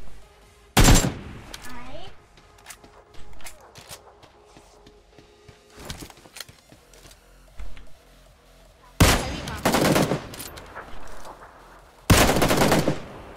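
Kar98k rifle fire in PUBG, several loud separate cracks spaced irregularly, with quieter game sounds between them and players talking.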